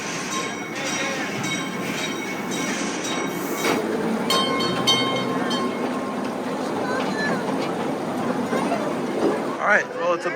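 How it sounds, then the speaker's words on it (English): An amusement park train at Knott's Berry Farm rolls past at night, its wagon rumble and wheel noise steady and fairly close, with a brief squeal, while people talk throughout. "Slow that train down."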